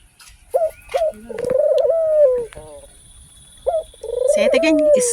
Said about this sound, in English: different kind of birds.